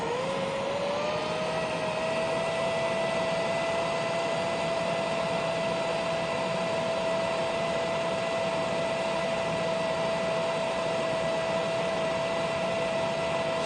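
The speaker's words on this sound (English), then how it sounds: "Let's turn it on and we'll see how much airflow this machine gives us" A ROBAM A812 range hood fan runs at a steady, even whoosh of rushing air with a constant motor whine, holding level for the whole stretch with no talking.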